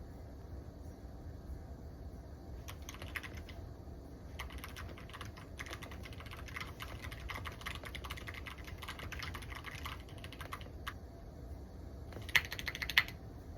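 Keystrokes on a computer keyboard come in uneven bursts and pauses while a novel draft is written, soft and close over a faint steady background hum.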